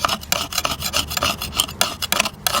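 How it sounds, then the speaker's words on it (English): Metal scraper rasping against cured JB Weld epoxy on a slick surface during a Toyota radiator leak repair, a quick series of rough, rhythmic scraping strokes, close and fairly loud. "Let me show you with the scraper here."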